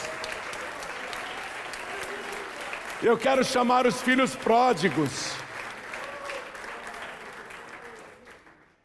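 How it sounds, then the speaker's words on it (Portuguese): A church congregation claps in a steady, continuous wash of applause throughout. A voice speaks over it in the middle, and the clapping slowly fades at the end. "Vamos aplaudir mais ao nome de Jesus."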